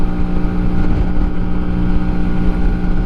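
A Honda Shadow custom motorcycle engine, the same engine used in the Varadero, drones steadily while riding, a loud low rumble with a constant tone mixed with wind buffeting on the microphone.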